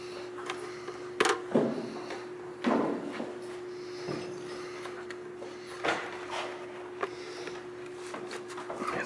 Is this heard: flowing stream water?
no